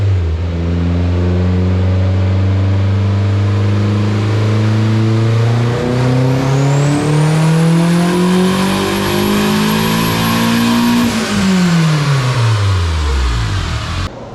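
A turbocharged K20A3-swapped 1999 Honda Civic revs up hard on a dyno, engine pitch climbing steadily to a high-RPM peak before dropping off, loud and close with a rising turbo whine.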